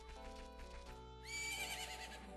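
Epona the horse in Zelda: Majora's Mask gives a bright, rising whinny that trails off, following a stretch of steady game music and a hint of hoofbeats.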